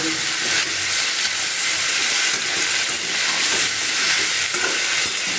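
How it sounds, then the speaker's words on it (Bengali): Kohlrabi and potato fry in a pan, a steady loud hiss and sizzle of hot oil that carries on evenly throughout with faint stirring underneath and no voices. "দিয়ে এটাকে খুব ভালো করে এটা আমি ভাজা ভাজা করে নেব।"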